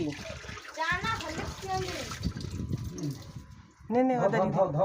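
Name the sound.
washing a glass with water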